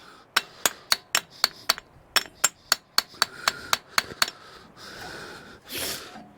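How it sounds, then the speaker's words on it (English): Sharp hammer taps drive an axle back through its housing on an off-road vehicle repaired on the trail, about fifteen crisp, evenly spaced metallic strikes, close and loud, followed by a couple of soft breathy noises. "Then we'll just tap the axle back through here."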